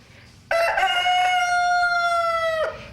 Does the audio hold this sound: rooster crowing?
yes